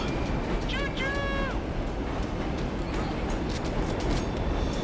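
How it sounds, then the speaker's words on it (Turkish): A train rolls in within the video game World War Z, a steady loud rumble with a brief squealing whistle-like tone near the start, under a man's speech. "Tren geliyor."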